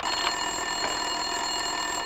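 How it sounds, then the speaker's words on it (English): An office telephone rings steadily in the video game Max Payne 2, its bright repeating electronic trill loud and continuous under a low room ambience, with no voices. "Winterson's phone was ringing."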